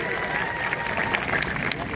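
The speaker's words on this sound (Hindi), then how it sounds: "जोरदार ताली बजाओ मुलायम सिंह जी के लिए" Crowd at a BJP political rally in Balrampur clapping loudly and steadily, a dense continuous wash of applause with some babble from the gathered audience.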